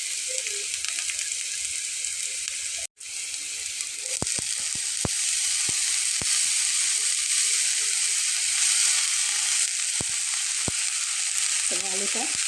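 Chopped potatoes fry in a pan, giving a steady hissing sizzle across the whole span with a brief cutout and occasional sharp utensil clicks against the pan, fairly close and with no voices.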